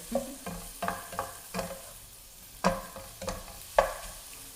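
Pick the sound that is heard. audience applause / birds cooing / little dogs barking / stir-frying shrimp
stir-frying shrimp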